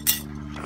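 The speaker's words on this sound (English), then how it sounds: "I will give everybody a spoon" Metal spoons clink briefly as they are handed out around a table, a single bright jingle near and short.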